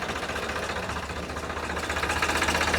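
A tractor engine idles steadily close by, a low rumbling drone with a faint rapid knock that grows slightly louder toward the end; no voices.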